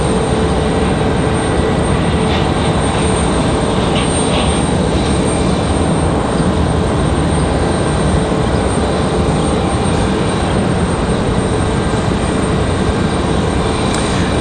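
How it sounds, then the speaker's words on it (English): Cessna Citation 3 business jet at Raleigh Durham airport, a steady, loud engine roar holding evenly throughout without talk. "There's that Cessna Citation 3 coming from Teterboro."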